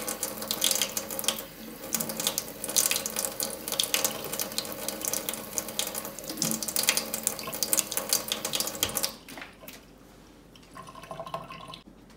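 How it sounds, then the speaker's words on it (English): Water is poured over newly planted dahlia tubers in soil, a steady close splashing rush lasting about nine seconds before it stops, leaving faint trickles and drips. "I'll throw a little bit of water down the rest of the area"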